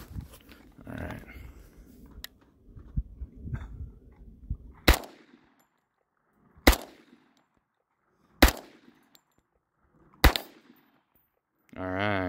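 An FNX 45 Tactical pistol fires .45 ACP rounds: four sharp, loud single shots spaced roughly two seconds apart, preceded by handling clatter and a voice, with a brief whir at the end.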